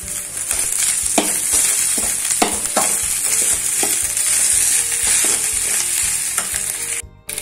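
Broken wheat upma being stirred and fried in a pan: a constant close sizzle with repeated spatula scrapes in a steady rhythm, cutting off briefly at the very end.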